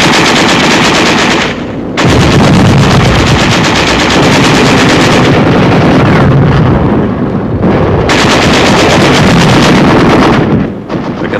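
Sustained machine gun fire with occasional shell bursts from a 1945 World War II battle near the Rhine, a loud, continuous rattle broken by a couple of brief lulls.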